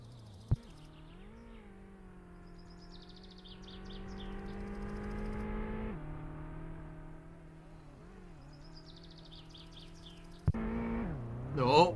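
An Opel Manta 400 rally car's engine in a racing video game drones as a steady, tonal hum, with pitch dips and rises as it revs, plus a sharp click near the start and a louder surge at the end.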